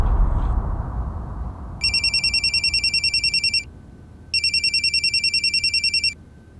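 A telephone rings in two long bursts of rapid, bright electronic trilling, separated by a short pause, clear and close after a faint muffled start, with no talking.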